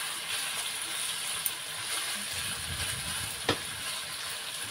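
Potatoes frying in a pan give a steady, close sizzling hiss throughout, with a couple of sharp clinks from stirring.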